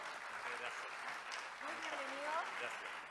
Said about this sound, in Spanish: Le damos un tremendo aplauso a cada uno.